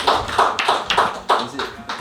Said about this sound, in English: Give All him a round of applause.